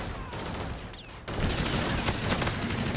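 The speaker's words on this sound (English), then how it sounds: "This is like a machine gun?" Machine gun fire in the first-person shooter Infinite Warfare: a continuous, rapid crackling burst of gunfire that swells louder about a second in and keeps going without pause.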